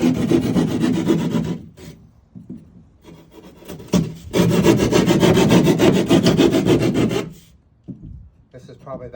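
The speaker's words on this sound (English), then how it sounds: "I have a keyhole saw here, little sheetrock saw." A small keyhole sheetrock saw cuts a square out of drywall, loud and close, in two long runs of steady rasping strokes separated by short pauses.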